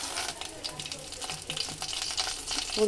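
Mint leaves fry in oil with green chillies for a tamarind chutney, giving off a soft, continuous sizzle mixed with light stirring clicks and scrapes.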